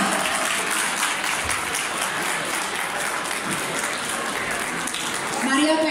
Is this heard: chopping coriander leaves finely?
no